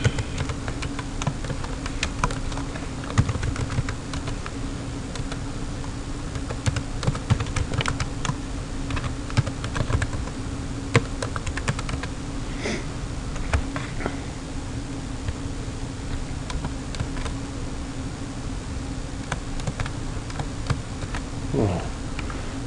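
Keys clatter on a computer keyboard while a form is filled in on a Windows PC, a continuous close run of fast irregular clicks over a low steady hum, with no voice.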